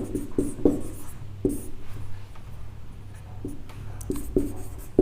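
A pen or pencil writes Hindi words by hand, giving faint scratchy strokes and light taps scattered unevenly across a quiet background.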